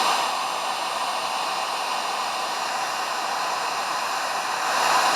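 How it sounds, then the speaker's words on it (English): A heat gun blows steadily while melting red and gold sealing wax, a continuous, even, fairly loud airy rush that holds without pause throughout. "Heat gun is slower."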